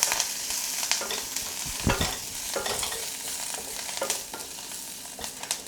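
Curry leaves and coriander leaves sizzle in hot ghee for dal, a steady close frying hiss broken by the scrape and clatter of a spoon stirring in the pan.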